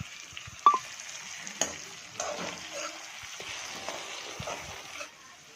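Chopped onion and tomato sauté in a pan with a soft, steady sizzle, punctuated by a few sharp clinks and scrapes of a spatula stirring.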